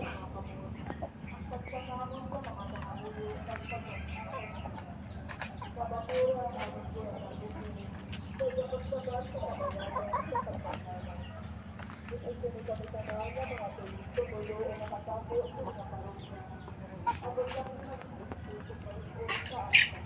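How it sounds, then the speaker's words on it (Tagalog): Chickens cluck and chatter continuously while being fed in the morning, a busy flock close by, with people talking in the background and a steady hum beneath. "Pakain ta sa ating mga alagang manok"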